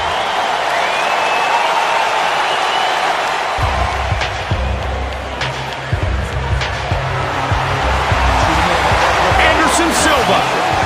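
A UFC arena crowd roars steadily for Anderson Silva entering the octagon before his bout with Nick Diaz, a loud continuous wash of cheering with deep thumping beats joining partway, and a commentator talks over it.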